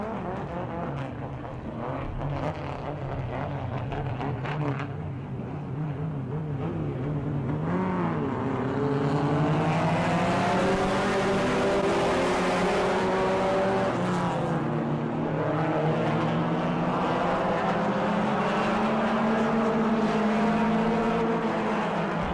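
Several race cars roar around the Auburndale track during a 2C class race, engines loud and continuous with rising and falling pitch as cars pass and jostle for position.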